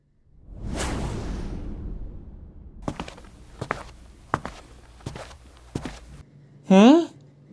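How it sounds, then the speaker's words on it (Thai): Footstep effects in a Thai-dubbed Chinese manga hero story: a handful of separate sharp steps spaced about half a second apart over a low rumble, after a soft whoosh and before a brief rising tonal sweep. "เสียงฝีเท้า"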